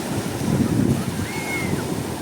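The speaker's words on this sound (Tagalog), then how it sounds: "usbok ang alon ngayon" Sea waves on the shore, a steady wash of surf with a brief swelling rush, and a faint whistle-like tone passing over it.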